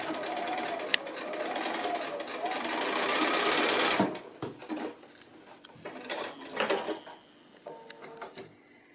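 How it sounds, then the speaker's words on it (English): A sewing machine runs straight stitching along short seams on a small drawstring bag, a loud steady whir for about four seconds, then a few brief bursts and fabric handling sounds. "it's really just a matter of some straight stitching, just short seams"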